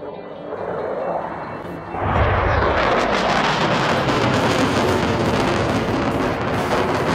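A loud, broad roar of a jet airplane at an air show in Switzerland swells suddenly and stays strong overhead, rushing and powerful, with no voices.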